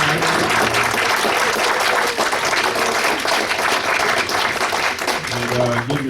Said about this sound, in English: Give the candidates a round of applause.